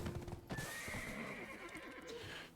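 Horse neighing with clip-clopping hooves in the online role-playing game Black Desert Online: a long loud whinny rides over steady hoof beats, close and continuous throughout.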